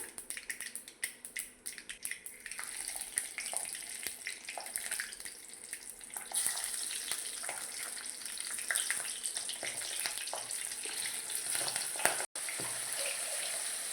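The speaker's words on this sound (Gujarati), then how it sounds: "જો આ મરચાં તરાઈ જ આપણા ધીમા ગેસથી તરી લેવાના." Chillies sizzle and crackle in hot oil over a low flame, a continuous hissing fry that grows louder partway through and keeps going steadily.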